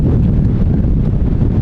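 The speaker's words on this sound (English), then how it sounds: "It is so strong in the wind today." Strong, gusty wind at London City Airport beside the dock, roaring and buffeting the microphone in a dense, continuous rumble that stays loud and close throughout, with no voices.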